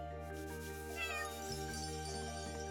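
A cat in the Chained Echoes video game gives a short meow over a steady layer of game music, with no voices.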